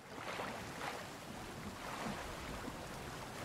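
Water and waves wash and roll steadily in the survival game Sons of the Forest, a continuous soft rushing surf with gusty wind, alone and without talking.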